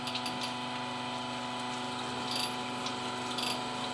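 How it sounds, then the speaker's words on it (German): Brushes spinning inside an engine cylinder for plateau honing, a steady whirring, grinding power-tool drone with a constant tone and faint rubbing scrapes throughout. "können wir das sogenannte Plateauhohn machen mit diesen Bürsten."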